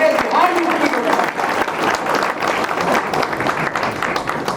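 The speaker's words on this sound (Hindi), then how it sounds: "तालियों की गड़गड़ाहट तो ऐसी होनी चाहिए कि पूरे बिहार में उठी हो" A seminar crowd at a civic event in Bihar breaks into loud, continuous applause, many hands clapping densely and evenly throughout, with a voice faintly audible beneath.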